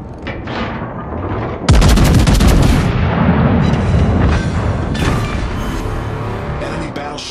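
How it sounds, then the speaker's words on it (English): Heavy naval guns of the battleship Ohio firing in World of Warships, a loud booming salvo that rolls into a long rumbling roar with further blasts and a faint radio-style voice. "All stations, concentrate fire on the target"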